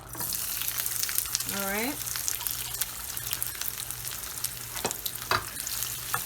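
Onions frying in oil in a pot while making dal, a steady loud sizzle throughout with a brief rising tone near the start and a few clatters later; a voice speaks briefly.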